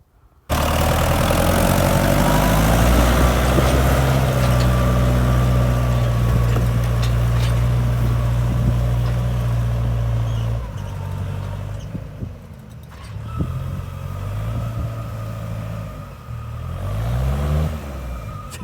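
A tractor engine runs loud and steady while discing a field, then the pitch dips and wavers as it labours and strains near the end, front wheels lifting as it stalls in place.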